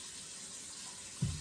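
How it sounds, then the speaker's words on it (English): Hot water running from a kitchen sink tap into the basin, a steady faint hiss throughout with a brief low thump near the end. "we're going to put hot water in the sink until it covers up the fish"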